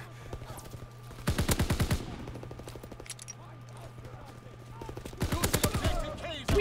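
Video game gunfire in Call of Duty WW2: two loud bursts of rapid automatic shots separated by quieter scattered pops and game noise, with a person talking faintly underneath.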